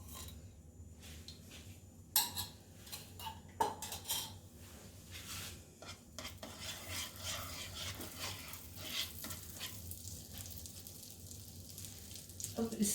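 Butter and oil heating in a pan for veg keema masala, with soft sizzling under clinks of a pot and utensils. It stays steady and low, broken by a few sharper metallic taps.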